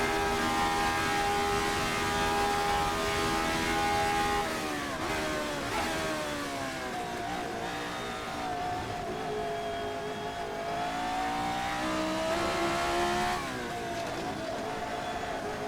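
A Formula 79 race car engine in a racing video game revving hard and continuously, its tone climbing through the gears with several sharp drops as it shifts. The sound is loud and close, and no one speaks over it.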